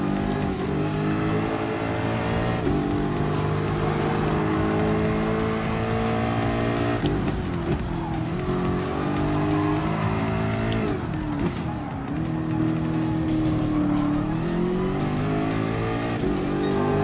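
Gran Turismo Sport race cars, a Nissan and a Ferrari, roar through the Spoon corner with loud, sustained engine drones. Pitch climbs and falls with gear changes and there is some tire squeal, constant and close throughout.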